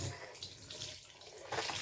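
Tap water runs steadily while a male cat is bathed at home, a continuous close splashing stream that swells louder near the end.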